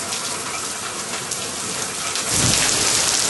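Steady hissing rain falls outdoors near a chicken area, then a deep roll of thunder swells in and the downpour grows louder toward the end.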